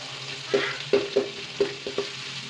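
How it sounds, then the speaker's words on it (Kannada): Beans fry in a pan under a soft sizzle while a spatula knocks and scrapes against the metal in about six sharp strokes, close and clear, with nobody speaking. "ಚೆನ್ನಾಗಿ ಚೆನ್ನಾಗಿ ಫ್ರೈ ಮಾಡ್ಕೊಳ್ಳಿ"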